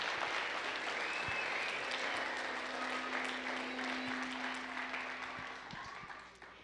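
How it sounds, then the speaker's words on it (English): Graduation ceremony audience applauding the mariachi band, a broad rolling round of claps with a low hum beneath, tapering off toward the end. "How about we give them one more round of applause?"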